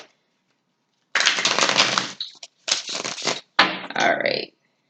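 Tarot cards are shuffled in a few separate bursts of crisp riffling and rustling, close and fairly loud, with short pauses between them and no talk.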